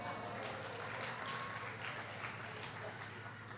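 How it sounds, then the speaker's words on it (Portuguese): A lecture audience at the VII ENALIC opening talk breaks into dense, continuous applause, a soft, distant wash of many hands that holds steady throughout, with some speech mixed underneath. "You applauded too soon."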